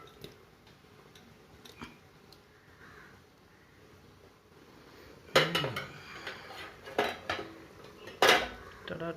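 Metal utensil clinking and scraping against a pot while dry silver fish curry is stirred in a home kitchen, with a few sharp clanks in the second half after a quieter stretch.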